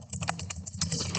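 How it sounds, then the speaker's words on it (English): Rapid typing on a computer keyboard during coding, a close, quiet run of light key clicks in an uneven rhythm with no voices. "I am actually typing."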